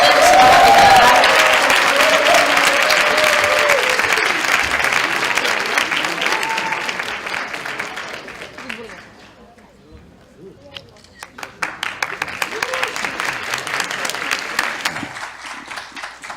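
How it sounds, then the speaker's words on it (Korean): Lecture hall audience of university students giving a long round of applause to welcome a party leader, loud dense clapping that fades to near silence and then swells again. "모두 큰 박수로 홍준표 자유한국당 대표님을 맞이해주시기 바랍니다"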